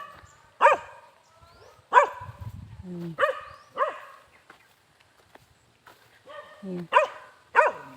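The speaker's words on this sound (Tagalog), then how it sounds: "may mga aso pa pala dito" Several dogs bark on a farm, sharp repeated barks and yips coming in uneven bursts, moderately close, with a person speaking briefly between them.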